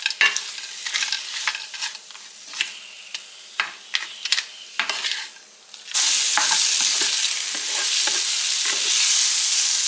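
Sausage, peppers and onions fry in a skillet, with clicks and scrapes of stirring over a steady sizzle that suddenly swells into a loud, continuous hiss partway through. No one speaks.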